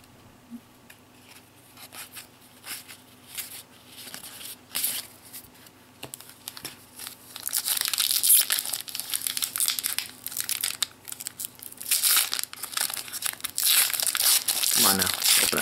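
A Dragon Ball GT Super 17 trading card booster pack being torn open, crinkling foil wrapper and rustling that grow louder and denser in the second half, while a person talks.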